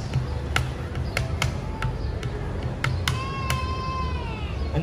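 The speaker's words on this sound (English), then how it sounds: "The ipu is the hollowed out gourd," An ipu, a hollowed-out gourd hula drum, is struck outdoors at the Royal Hawaiian Center in Oahu, giving a series of separate, punchy hits in a loose rhythm, with a wavering tonal cry and crowd murmur behind it.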